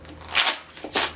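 A deck of playing cards shuffled during a card trick, two quick riffling bursts close by, separated by a short pause, in a quiet room.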